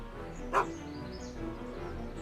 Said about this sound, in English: Get away from me, you crazy mutt! Go away, dog.